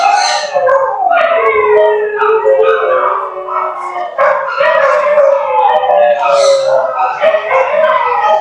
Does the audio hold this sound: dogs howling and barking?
yes